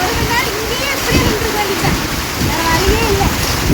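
Heavy rain pours down in a steady, dense roar with splashing throughout, and voices murmur faintly beneath the downpour.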